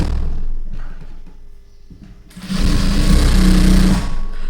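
After a quiet start with faint handling noise, a sewing machine whirs to life, stitching old cloth with a close, steady mechanical hum for about two seconds.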